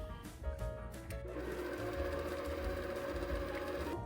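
An electric mixer runs steadily through vanilla cake batter, a continuous close motor whir with a few brief irregular bumps near the start before settling into an even drone.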